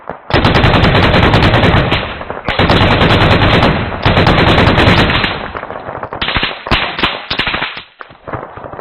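Sustained machine-gun and rifle fire crackles in a military video game squad battle, long loud continuous bursts that break into scattered shots near the end, with no voices over the gunfire.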